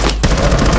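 Automatic gunfire from a Rainbow Six Siege match rattles out in a loud, rapid burst of close shots that fills the short clip.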